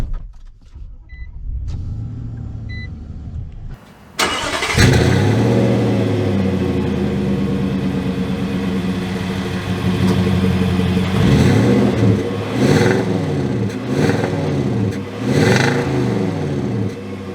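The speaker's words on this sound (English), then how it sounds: "So, setting off here in the Nissan Titan" A 2022 Nissan Titan XD Platinum Reserve pickup truck is heard from the cabin as it starts and pulls away. After a quiet few seconds the engine abruptly roars to a loud, steady rumble, then revs climb and fall repeatedly as it drives off.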